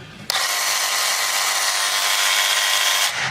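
A DeWalt power saw starts abruptly and runs at a loud, steady high whine for about three seconds before cutting off.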